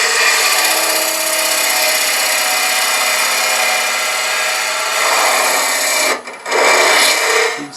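Lyle Jamieson hollowing tool cuts into wood spinning on a lathe, a steady, loud, dense scraping hiss that runs unbroken for several seconds, dips briefly near the end, then resumes.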